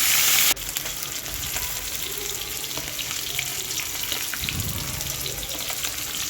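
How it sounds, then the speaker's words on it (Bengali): Rohu fish pieces rubbed with salt and turmeric fry in hot oil in a pan, making a continuous, fairly loud close sizzle after a sharp short burst at the start. "মাছটাকে লবণ হলুদ দিয়ে রেখেছিলাম তেলের মধ্যে ভেজে নিচ্ছি"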